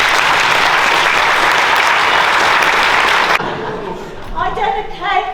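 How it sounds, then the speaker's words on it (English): Audience applause for a presentation, dense and sustained clapping filling the room for about three seconds before cutting off abruptly, followed by a voice speaking. "Round of applause for Kathy."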